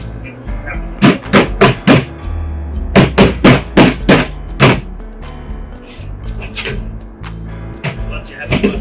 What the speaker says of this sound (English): They can just be popped together by hand.